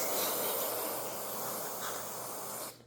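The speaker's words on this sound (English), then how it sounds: "I'm gonna spray it out one more time and wipe it down" Carburetor cleaner sprays steadily onto the carburetor of a riding lawn mower, a loud, continuous close-up hiss lasting nearly three seconds before cutting off abruptly.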